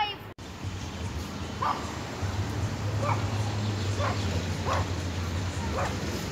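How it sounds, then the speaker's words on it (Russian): A dog in a park gives about five short, sharp barks spaced a second or so apart, fairly faint and distant over a steady low outdoor hum. "Что, собака гавкает?"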